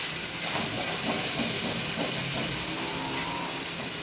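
Tomato puree hits hot oil in a pan with a loud, continuous hissing sizzle that stays dense and even throughout.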